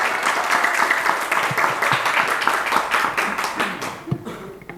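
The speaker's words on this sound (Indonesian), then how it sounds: "Tepuk tangan." Clapping from an audience at an in-house training session fills the room steadily for nearly five seconds, dense and even, with a few louder individual claps near the end.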